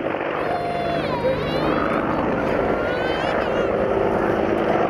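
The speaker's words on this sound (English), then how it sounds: "Gunship 2 will now pull up and turn away from the formation and fly across in front of you" Military gunship helicopter flying past in front of the crowd at a Royal Navy airshow at Yeovilton, a steady loud rotor and engine roar throughout, with wind buffeting and an announcer talking over it.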